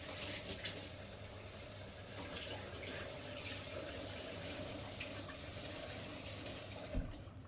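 Tap water runs steadily into a sink while someone washes their hands, a constant close splash with a small knock near the end and no speech.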